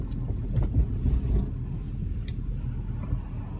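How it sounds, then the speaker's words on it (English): Street traffic passing during a walk along Waller Creek, a low rumbling wash of vehicles with a few louder swells early on, mixed with some wind noise on the microphone. "Now there's a bunch of traffic."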